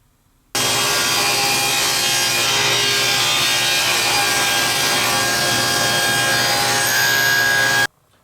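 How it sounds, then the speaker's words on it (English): A table saw rips an oak scrap into narrow strips in a loud, steady cut of about seven seconds, with a continuous whining drone and a woody rasp. No voices can be heard. "So I'm going to take it over to the table saw and we're going to cut some strips"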